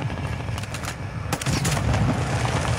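Gunfire in the Warzone 2 video game: loud, close bursts of rapid shots that blur into a dense, booming rattle and grow heavier toward the end.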